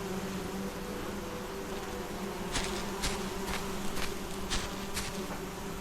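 Angry-sounding bees buzz around beehives in a grove of trees in the game SolarPunk, a steady drone with several brief sharper buzzes passing close by, no talking.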